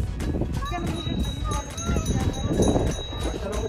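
Camels and horses on Dumas beach in Surat, with animal movement and clopping amid a busy crowd of beachgoers talking nearby, steady outdoor bustle throughout.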